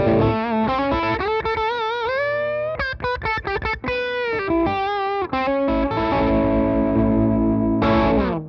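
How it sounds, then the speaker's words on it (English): Electric guitar through a Chevtone Messiah Drive plexi-style overdrive pedal with the EQ turned all the way down for a warm tone, strummed chords and quick single-note runs ringing out loud and close, sustained chords at the end, no voices. "put them all the way down and see how that sounds. This is going to give us a much warmer tone"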